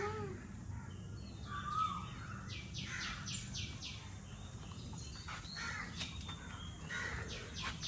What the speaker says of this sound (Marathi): गाईज आवाज आहे का फक्त आता पक्ष्यांचे.